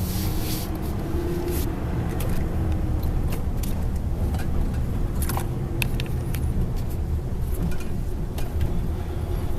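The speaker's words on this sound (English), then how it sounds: "But the engine sounds pretty good." A 1999 Ford Ranger pickup truck engine idles steadily and fairly loudly throughout, a continuous low rumble with faint rattling and clinking above it, worn motor mounts, no voices.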